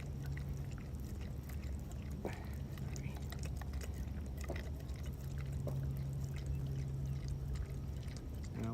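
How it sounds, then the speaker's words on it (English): Water dribbling out of a nearly empty water bottle outdoors, a steady soft trickle running throughout over a constant hum of background noise. "Water bottle's almost empty, so it's drizzling out instead of a nice little stream."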